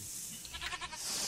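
A goat in the Minecraft video game bleats once, a brief, wavering nasal cry lasting under a second against low game background sound.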